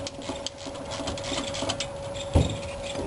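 Tightening bolts on the front brakes of a 1984–1991 Mercedes gives a steady whirring, buzzing run, like a power tool driving the bolts, with one louder knock near the end.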